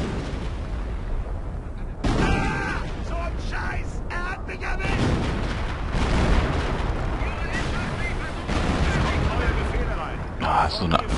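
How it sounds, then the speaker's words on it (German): Dense battlefield gunfire and heavy artillery-like booms roar almost without pause through a Company of Heroes: Tales of Valor skirmish, loud and layered, with bursts flaring over a constant rumble. "Wer schießt denn da?"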